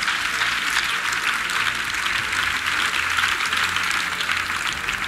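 A church congregation gives a clap offering during a salvation and healing service, a steady, dense burst of many hands clapping together, fairly close and continuous throughout with a low hum beneath.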